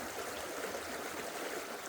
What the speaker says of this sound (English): how much energy from the sound of the water is getting mixed in